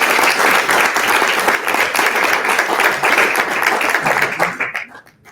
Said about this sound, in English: Can we clap it up for Ashley?